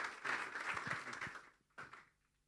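A church congregation at a Good Friday service gives a short burst of applause to welcome a speaker, faint and brief, fading out with a last smattering of claps.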